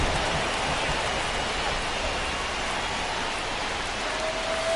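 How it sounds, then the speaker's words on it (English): Steady rain pours over a baseball game, a constant, even hiss with no breaks, with a faint tone creeping in near the end. "This rain is not letting up."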